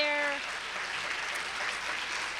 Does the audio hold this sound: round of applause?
yes